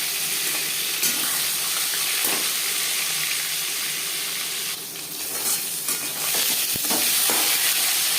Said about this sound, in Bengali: চার চামচ রিফাইন্ড অয়েল গরম করে নেওয়ার পর দিয়ে দেবো ম্যারিনেট করে রাখা মাছের মাথা